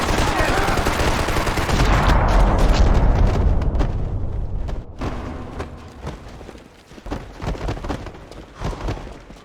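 Heavy gunfire rings out in a Max Payne 3 firefight against a sniper among gravestones: a loud, dense burst of shots and booms for about four seconds, then scattered single shots and impacts that thin out.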